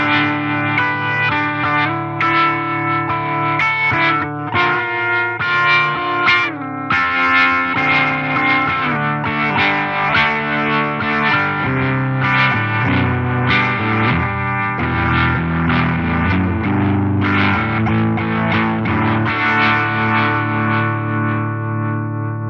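A guitar runs through the Fender Tone Master Pro's Vibr Tone rotating speaker effect on its slow setting, chords swirling with a gentle, slow pulsing wobble, playing steadily and loud with no talking.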